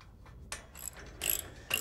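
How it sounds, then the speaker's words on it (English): Ratchet wrench bolting a bumper onto a classic Ford Bronco, a few short, faint, clicking ratchet bursts separated by brief pauses, with no talking. "And then finally, just bolt them on."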